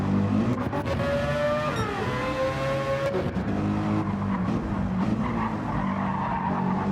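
Race cars in a sim racing game, including a rotary car and a Supra, scream past with high revving engines, gear changes and tire squeal under braking into a hairpin, loud and close throughout.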